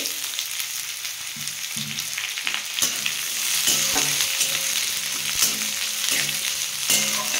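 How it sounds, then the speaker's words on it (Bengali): Garlic and onion fry in a pan for sarshe shak, a steady close sizzle with occasional stirring scrapes and clinks throughout, no voices. "পেঁয়াজটা বন্ধুরা লাল লাল করে ভাজবো।"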